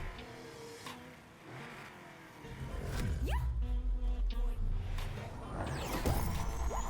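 A car launches and accelerates in Need for Speed Unbound, its engine rising into a loud steady roar with a pulsing rhythm, while faint voices sit low beneath it.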